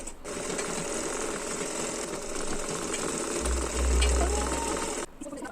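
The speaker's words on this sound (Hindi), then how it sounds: "तो अब हमें इस पर टॉप स्टिच लगानी है।" A sewing machine running steadily while top-stitching a salwar belt, a continuous close, loud whirring buzz that stops abruptly near the end.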